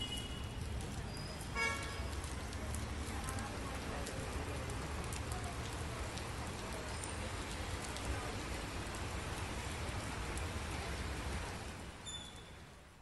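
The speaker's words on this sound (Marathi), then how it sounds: "पिंपरी चिंचवडमध्ये सकाळपासून पावसाची संततधार सुरू आहे" Heavy, continuous rain falling on a street in Pimpri-Chinchwad, a dense, steady wash of rainfall with a couple of brief horn toots and passing traffic in the background.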